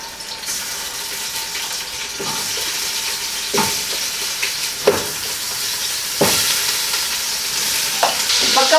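Beef leg sizzles in hot oil inside a pressure cooker as its skin browns. The frying hiss is loud and continuous, broken by several sharp scrapes and clanks from stirring.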